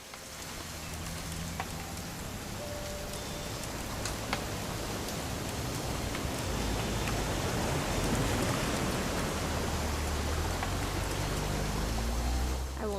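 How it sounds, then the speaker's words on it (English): Rain in the video game What Remains of Edith Finch, a steady dense hiss of falling drops on surfaces that holds evenly throughout, with faint scattered taps and no voices. "It's gonna rain the whole weekend,"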